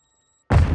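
A Semtex grenade going off in Call of Duty, a single loud, close blast that bursts out after a short stretch of near silence and rumbles on to the end.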